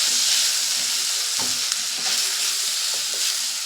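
Soybeans and spices (turmeric, salt, chili powder, cumin) sizzle and fry in a pan, a steady close hiss with occasional stirring clicks and scrapes, no voices.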